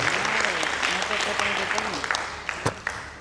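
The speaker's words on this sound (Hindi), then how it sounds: "एक बार जोरदार ताली के माध्यम से उनका हौसला अफजाई करेंगे" Audience applause at a stage event in India, a dense wash of clapping that carries on under a voice addressing the crowd, with a few sharper individual claps standing out toward the end.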